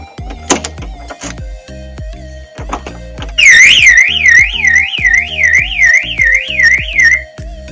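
A Lotus Elise car alarm sounds a loud, warbling two-tone wail for about four seconds, rising and falling steadily over quieter background music.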